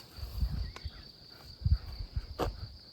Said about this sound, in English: just listen to the crickets here.